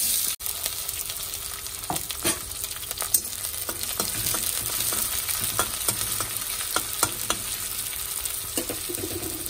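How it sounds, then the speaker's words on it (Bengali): Onions frying in oil with whole cumin and bay leaf, a continuous close sizzle broken by scraping stirs and sharp clicks of a spatula against the pan, no voices. "পেঁয়াজগুলো ভাজা ভাজা করে তারপরে সোয়াবিন আলুটা ভাজবো"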